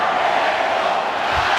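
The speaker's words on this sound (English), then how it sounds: "we will let the crowd provide the soundtrack as we await the opening bell" Boxing arena crowd cheering and roaring before the opening bell of a Canelo vs Berlanga fight on a Mexican Independence Day weekend, a dense, steady wall of noise that holds at one level without a break.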